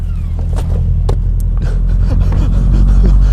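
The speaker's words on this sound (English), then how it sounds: "I gotta go move the other car real quick" A Subaru WRX engine idles with a deep, loud, steady rumble close by as the car is moved, with a few faint clicks and knocks over the drone.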